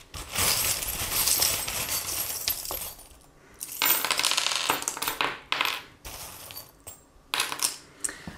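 Small metal charms for a tarot reading are dropped and spill out, giving bright jingling clinks and clattering bursts that come in several clusters with short pauses, close and fairly loud.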